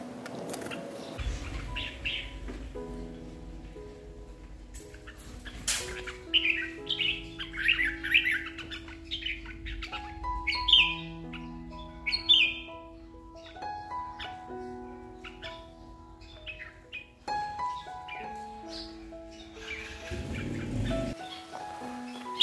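A red-whiskered bulbul chirps and twitters in bursts while bathing in a large cage, with fluttering, hopping and water patter beneath its calls, fairly close and moderately loud throughout.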